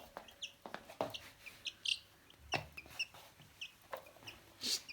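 Chicks give repeated short, high chirps and clucks at irregular intervals over a quiet background, close by, while playing with a hamster.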